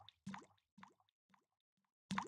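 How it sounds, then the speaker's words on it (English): Game health pickup effect with a sharp attack layered with a water droplet, heard as a few short plopping, dripping bursts separated by silence, close and fairly quiet. "the health pickup had the same initial attack as well, and was also layered with a water droplet"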